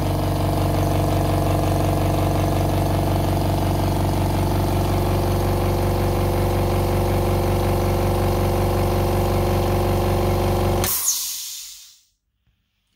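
An oil-free Hyundai HYC 1406 S air compressor runs with a steady, loud motor hum and buzz for about eleven seconds, then switches off with a brief release of air and falls to silence.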